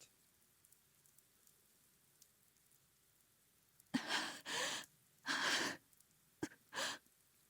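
Rain falls in short loud bursts in the Fate/Stay Night visual novel, several gusty swells of patter after a near-silent opening, with no voice.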